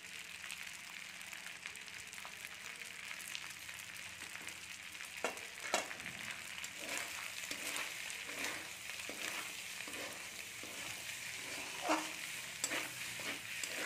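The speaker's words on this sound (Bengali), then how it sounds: "চলুন বন্ধুরা, একটু ভালো করে ভেজে নিই" Shrimp pasta frying in a pan with Maggi masala and tomato ketchup, a steady soft sizzle broken by scattered clinks and scrapes of stirring, with no voices.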